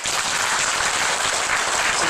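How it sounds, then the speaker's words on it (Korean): Church congregation applauding during a Sunday sermon, a dense, steady burst of clapping from many hands filling the room at even loudness throughout. "영광의 박수 한번 해주십시오."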